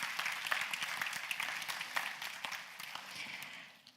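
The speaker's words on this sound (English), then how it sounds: "please give one more round of applause to all the sponsors and partners and" An audience at a scientific symposium on gene editing applauds sponsors and partners, a dense, steady wash of many hands clapping that holds for several seconds and tapers slightly at the end.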